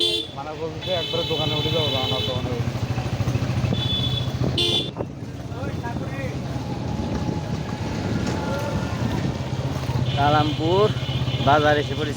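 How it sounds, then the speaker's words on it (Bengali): A motorcycle engine drones steadily in traffic from Islampur to Kalampur, with horns honking now and then and people talking over the ride. "সবাই মোটর সাইকেল চালাইতেছে"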